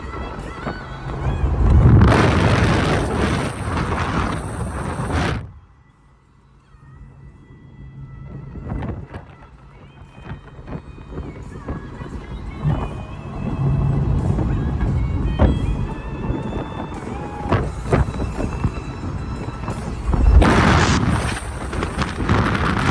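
Porsche Boxster GTS 4.0 with a six-speed manual, driven at night with the top down: engine roar rises and falls, drops briefly to a quiet stretch, then builds again with loud revving surges and wind noise.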